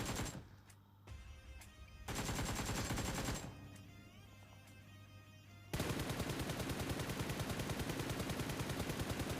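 Rapid automatic gunfire from a battle royale shooter game crackles in dense bursts, alternating with short pauses, then settles into a sustained, loud stream of shots at the end.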